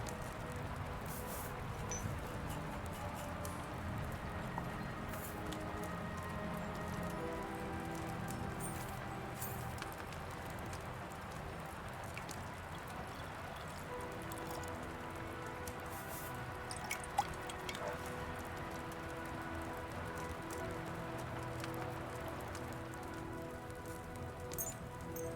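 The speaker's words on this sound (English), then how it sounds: "I hear thunder and I hear rain outside." Steady rain falls outside in the medieval game Kingdom Come: Deliverance II, a continuous dripping, pattering wash on surfaces that runs unbroken throughout, with no clear thunder and no talking.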